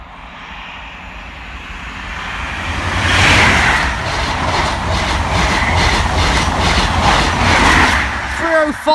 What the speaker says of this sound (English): this train is now 2 minutes early